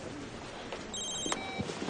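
A phone rings briefly with a short electronic trill over a quiet room background.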